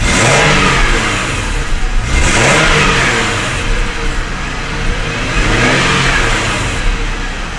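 Car engine running and revving after a knock sensor replacement for code P0325, loud and close, with the pitch rising and falling in repeated throttle blips over a steady idle.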